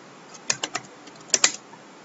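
Someone types on a computer keyboard, a short run of sharp, close key clicks in two quick clusters.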